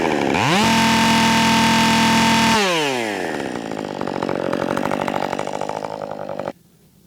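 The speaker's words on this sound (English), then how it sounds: "the saw is running fantastic" A Husqvarna 5 series chainsaw roars loud and close, holding a steady high rev, then dropping in pitch and settling into a rougher, lower running note before cutting out abruptly.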